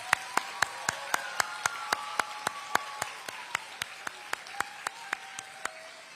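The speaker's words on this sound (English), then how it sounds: "Give them a nice round of applause." Applause at a student math bee after the first round, heard as a quiet, evenly spaced run of sharp claps, about four a second for six seconds, with faint tones in the background.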